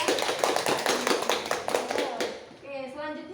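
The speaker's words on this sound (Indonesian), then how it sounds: "Tepuk tangan dong mereka." Children in a school Islamic studies (fiqh) classroom clap in uneven bursts of taps and claps, with young voices chattering over and after it before the room settles.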